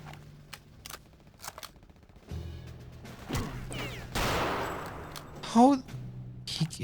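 Enemy gunfire in Return to Castle Wolfenstein, scattered sharp shots and bursts at moderate distance, mixed with game effects and someone talking over them.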